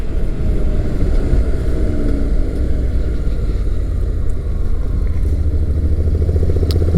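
A Honda NC700X motorcycle rides in sport mode on a scratchy road with some gravel, its engine a steady loud rumble with wind noise, continuous and close throughout without talk.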